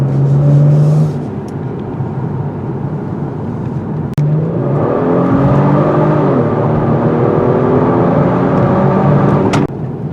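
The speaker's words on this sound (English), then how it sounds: "This V6 engine has guts" A 2021 Genesis G70 with a V6 engine accelerates on wet roads, its engine note rising through a gear change with a brief pause, loud and close from inside the car, no talk.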